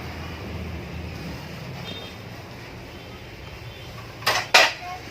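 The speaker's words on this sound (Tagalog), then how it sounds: "Kukuha po muna ako ng plato" Plates are taken and handled at an outdoor grilling setting, giving two sharp ceramic clinks near the end after a quiet stretch of soft ambient noise and faint background murmur.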